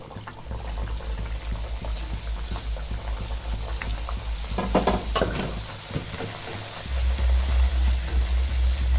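Semolina luchi deep-frying in oil: a soft, continuous bubbling sizzle with a brief louder splash of activity midway as pieces are moved, a low hum underneath, no voices.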